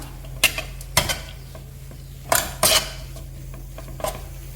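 Papaya thoran being stirred in a pan, a few sharp metallic scrapes and knocks of a spoon against the pan spaced out over a quiet background hum, two strokes landing close together near the end.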